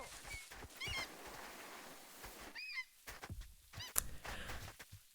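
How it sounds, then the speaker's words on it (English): A bird in the walking game Baby Steps gives several squeaky honks like a rubber duck toy, short separate calls scattered over a quiet rustling background, with no talking. "Bird sounds like a rubber duck."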